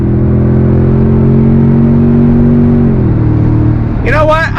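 2023 Toyota Tundra TRD Pro accelerating on throttle, heard from inside the cab as a loud, steady engine drone with a smooth pitch shift as it changes gear, and a voice breaking in briefly at the end.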